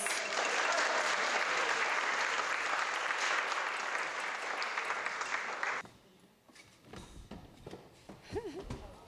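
Steady applause from a wedding crowd fills the first six seconds, then breaks off, leaving quieter room noise and a voice starting to speak.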